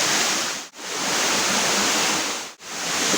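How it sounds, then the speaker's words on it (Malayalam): Steady broadband roar of Parayaruvi waterfall heard from its base, continuous and close, with two brief dropouts and no talk. "വെള്ളച്ചാട്ടത്തിൻ്റെ ഏറ്റവും താഴെ നിന്നുള്ള കാഴ്ചയാണ് ഇപ്പോൾ കാണുന്നത് കേട്ടോ"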